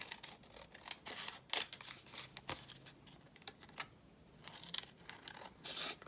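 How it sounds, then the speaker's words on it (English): Scissors trim coffee-dyed tracing paper in a run of crisp, close snips and rustles, with quiet papery handling between cuts. "Do you think I can trim this straight with my scissors?"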